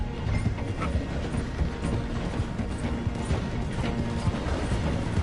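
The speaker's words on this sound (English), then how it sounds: "The train is slowing down to go through the station." A train in the game Red Dead Redemption 2 slows as it passes through a station, producing a steady, loud, rumbling clatter of wheels and cars that runs throughout with no talking.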